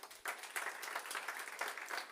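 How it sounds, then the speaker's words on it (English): An audience at a pageant reveal event gives a steady round of clapping, moderately faint and somewhat distant, starting abruptly and holding an even patter to the end. "Please, let us give a round of applause for our business community."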